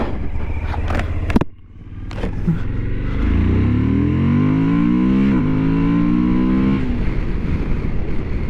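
A 2023 Suzuki V-Strom 1050DE adventure motorcycle accelerating hard on a highway, the engine note rising steadily through the gears with a brief dip at a shift, loud and close over wind rush.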